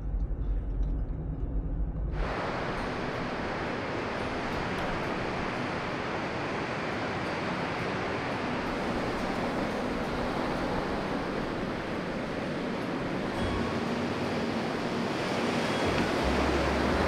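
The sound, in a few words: surf at Ruby Beach, Washington coast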